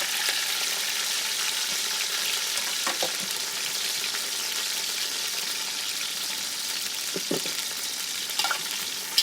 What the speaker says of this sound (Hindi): और यहाँ पर मैंने प्याज था काट लिया था, ये इसमें डाल देंगे।